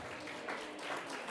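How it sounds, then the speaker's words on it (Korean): A church congregation at a 36th-anniversary thanksgiving service gives a brief burst of dense, even applause, steady and fairly distant. "다시 한번 하나님께 영광의 박수."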